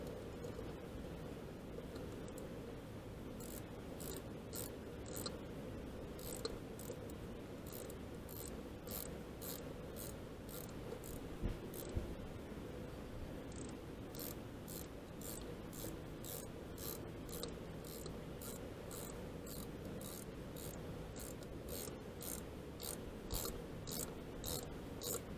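Steady rapid clicking of an 11mm ratchet tightening the exhaust on a 2015 Kawasaki Ninja 300 during a Yoshimura R77 install, continuous and fairly faint over a low background hum, with no voices.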